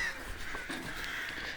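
Crow cawing outdoors in rural Kazakhstan, a few short harsh calls at moderate distance over a steady background hiss.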